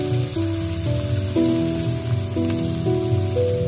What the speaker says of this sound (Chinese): 接下来就是把姜蒜末全部放到油锅里面，快速的给它翻炒，炒出蒜香味和辣味